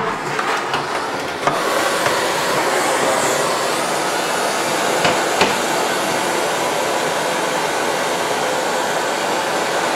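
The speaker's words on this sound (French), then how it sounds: "Alors on va décercler au chalumeau." A kitchen blowtorch roars steadily while heating the metal ring around a frozen dessert to release it, a constant loud hissing rush lasting throughout, with a few faint clicks and knocks near the start.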